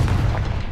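Explosive spell blast in the PS5 game Hogwarts Legacy: a single loud, deep boom with a short rumbling tail, heard alone and close.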